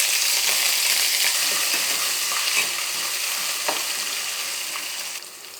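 Green chillies and ginger garlic paste frying in hot oil for beetroot biryani, a steady close sizzle with a few stirring scrapes, fading slightly at the end, with no talk.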